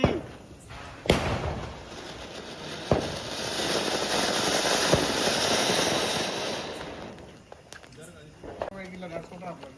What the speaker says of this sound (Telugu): సుర్సుర్ బత్తి గైస్